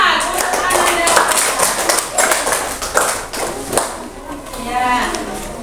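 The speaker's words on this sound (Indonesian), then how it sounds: "Tepuk tangan." A handful of students clap in a classroom during a lesson, with distinct, fairly close individual claps in an uneven rhythm and voices talking over and between them.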